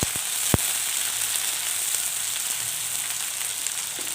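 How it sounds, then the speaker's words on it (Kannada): Onions and green chillies fry in hot oil for a spicy chicken fry, giving a loud, dense, continuous sizzle with a single sharp pop near the start. "ಚೆನ್ನಾಗಿ ಫ್ರೈ ಮಾಡ್ಕೊಳ್ಳೋಣ."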